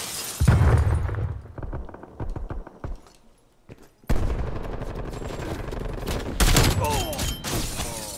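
A grenade blast in Call of Duty Black Ops Cold War, set in a team deathmatch or hardpoint match. It is a sharp, loud burst mixed into steady rapid gunfire, with further volleys and a second heavy crash following.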